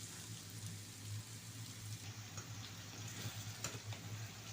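Saudi toori frying in a pan, a faint, continuous, even sizzle that stays level throughout, with no talking.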